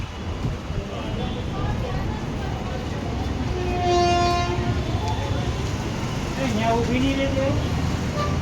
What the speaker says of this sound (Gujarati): જો ટ્રેનો ઊભી છે.